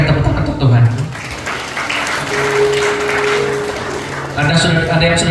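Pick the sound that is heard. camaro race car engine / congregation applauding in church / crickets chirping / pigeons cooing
congregation applauding in church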